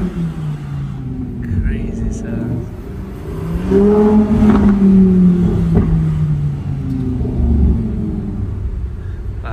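A 2024 Lamborghini Huracan Tecnica heard from inside the cabin on roads outside London, its engine revving up loudly in a rising, building roar that peaks midway and then eases into a steady drone, with a brief spoken exclamation over it.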